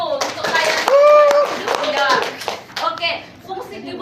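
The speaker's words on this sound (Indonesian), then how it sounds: "Tepuk aplaus dulu untuk kalian." Children clap in rhythmic bursts in a classroom, close and loud, mixed with kids' voices and chatter and a sung or shouted chant.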